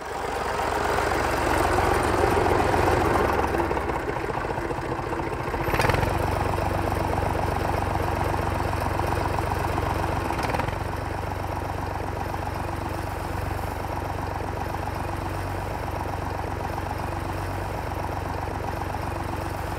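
A tractor engine idles and chugs steadily at close range in a field, a continuous low rumble with a couple of brief knocks.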